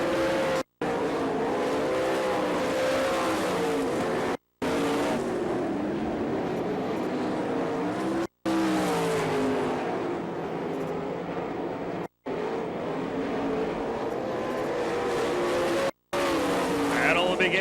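Sprint race cars on a dirt oval at Florence, Kentucky, engines roaring steadily as they slide through the turns, sustained and loud, with an announcer's voice running over the racing.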